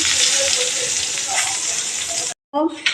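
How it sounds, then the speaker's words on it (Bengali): Eggplant slices frying in a pan, a loud, dense hissing sizzle that runs steadily close up, cuts out abruptly, then resumes with a voice speaking over it. "ওর জন্যই বেগুনটা আমাকে ভাজতে হয়"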